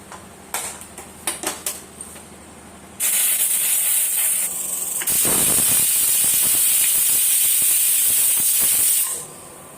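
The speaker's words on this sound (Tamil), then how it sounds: "இப்போ குக்கர் மூடி போட்டுட்டு ஒரு 3 விசில் வர்ற வரைக்கும் விட்டுடலாம்." A pressure cooker making ven pongal vents steam in a loud, steady hiss that starts abruptly, briefly dips, then roars on for several seconds before cutting off, after a few light clinks.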